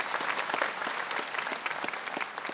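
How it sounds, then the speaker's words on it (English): Audience applause at an RMIT University graduation ceremony in 2019, a brief dense burst of many hands clapping in a large hall, steady and enthusiastic, with no speech. "can we give them another round of applause,"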